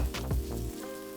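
Thin-sliced ribeye sizzles in a little olive oil on a Steelmade flat top over medium-high heat, a loud burst of crackle with low thumps at first that settles into a steady hiss.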